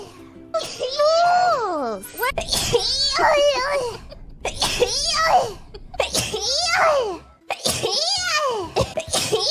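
A series of repeated sneezes in a child-like voice mixed with bursts of speech, each sneeze sharp and close, recurring throughout.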